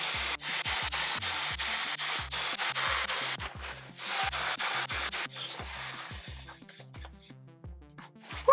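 Therm-a-Rest sleeping pad being pumped up, with rhythmic rubbing and crinkling strokes repeating about twice a second. The sound is close and fairly loud, slows and thins toward the end, and no one talks.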